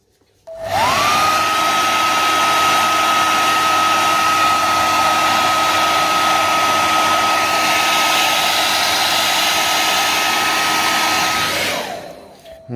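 A heat gun blows steadily on a rubber bumper protector fitted to a Xiaomi M365 electric scooter, a loud continuous whoosh with a faint motor whine that holds for about eleven seconds before cutting off.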